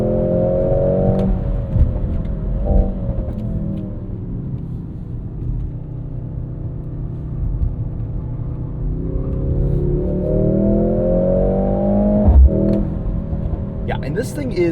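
A 2025 Mercedes-AMG GLC 63 S E Performance with a 2-liter turbo engine pulls hard through the gears, its pitch climbing, dropping at each shift and climbing again, a loud, rumbling drone heard from inside the cabin.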